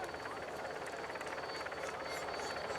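A TV camera helicopter flies at about 1,500 feet above a mountain stage of the 2007 Tour de France. Its steady, rumbling rotor and engine drone holds evenly throughout.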